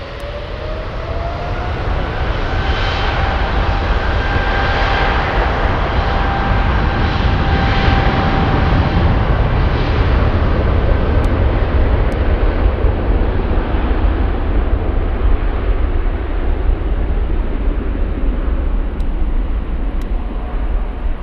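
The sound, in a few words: heavy jet airliners at Frankfurt airport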